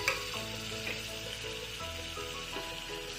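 Chopped tomato stir-fried in a hot tempering, moved around with a big spoon: a dense, continuous close sizzle with light scraping throughout.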